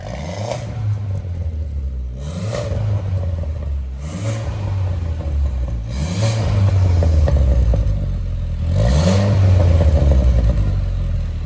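Stage 2 tuned Skoda Octavia vRS with a valvetronic exhaust, revved five times in a row, each rise ending in a sharp crackling burst over a steady idle rumble, close and loud.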